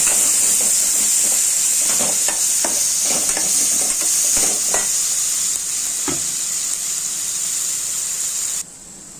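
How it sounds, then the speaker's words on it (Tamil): Ginger garlic paste sizzles and fries in a hot pan while being stirred, a loud continuous hiss with scattered scraping and stirring clatter throughout, close by. "அதனால 1 ஸ்பூன் அளவு சேர்த்து நல்லா வதக்கிக்கோங்க."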